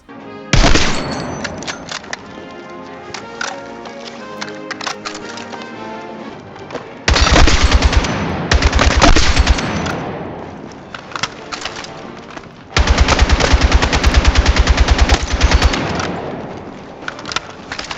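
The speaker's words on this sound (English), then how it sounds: "The gun sounds are also amazing" Rapid machine-gun fire from the Battlefield 6 video game, loud and close, with sustained bursts and crackling impacts separated by short pauses, no talking.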